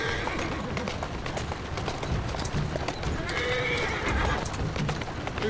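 A horse in the Assassin's Creed Syndicate video game neighs and whinnies while its hooves clip-clop in a steady rhythm, close and prominent over a busy game soundscape.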